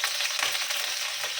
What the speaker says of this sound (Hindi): और लौंग और इलायची डाल दिए, अच्छे से तड़कने देंगे।